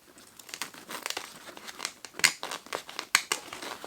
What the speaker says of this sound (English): It's the friction of the material to the whatever foam is inside.